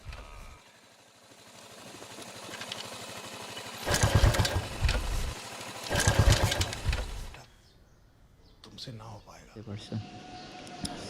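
A Suzuki Gixxer FI ABS motorcycle with a fuel-injected engine turns over and settles into a steady idle, close by. Two louder bursts of revving stand out, and someone talks over the running engine.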